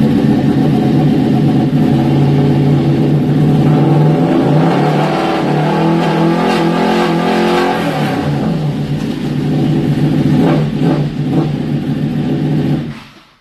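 A 2017 superbike engine, Panigale, R1, S1000RR or GSXR1000 class, revs hard and loud, climbing through quickshifter upshifts with brief dips between gears before cutting off at the end.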